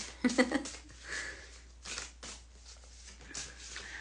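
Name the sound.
shuffling tarot cards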